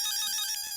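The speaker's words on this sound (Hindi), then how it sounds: "फोन आया।" A telephone rings with a bright electronic ringtone, loud and close. The tone holds steady through the brief moment with no voices over it.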